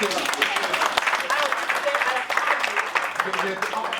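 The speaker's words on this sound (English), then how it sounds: "Can we have an applause for this man, please?" A crowd at a college entrepreneurial seminar claps and cheers in loud, continuous applause, dense and steady throughout, with voices mixed into the noise.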